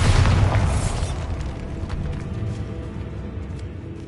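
A Bombarda blasting spell explodes in Hogwarts Legacy, one heavy booming blast up front that rolls off into a long rumbling decay.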